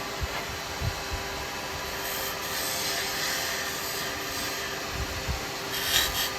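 A carbide chisel rubs and scrapes steadily against spinning wood on a lathe, cutting a very slight taper, a continuous close rasping hiss with a few soft knocks and no talk.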